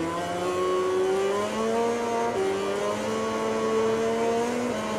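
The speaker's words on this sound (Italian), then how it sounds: "Senti, la moto fa una fatica in rettilineo" A MotoGP 20 motorcycle in a career race, its engine droning hard and straining down a straight, a steady loud tone rising through the gears with no voices over it.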